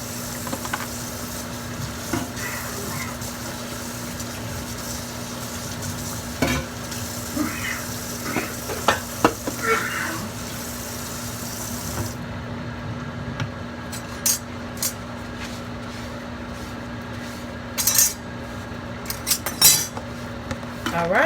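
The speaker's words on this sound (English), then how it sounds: "About to enjoy these ramens." Metal utensils clink and scrape against dishes as ramen noodles are eaten, with scattered light taps over a steady background hum and a faint sizzle in a catering kitchen.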